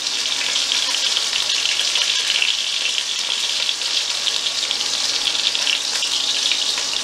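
Short ribs sear in a hot pan with a loud, steady hiss of spitting fat that holds evenly throughout, with no pauses or talk.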